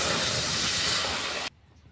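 Dal poured into hot tempering oil with five-spice seeds, onion and green chili hisses in a loud, dense sizzle that cuts off abruptly, leaving near silence.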